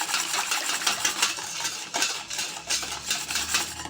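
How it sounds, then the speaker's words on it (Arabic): Steady scraping and clinking of a utensil stirring a homemade liquid dish soap mixture made from orange peels inside a container, a continuous close stirring rhythm with no speech. "بصوا هنقلب كويس كده"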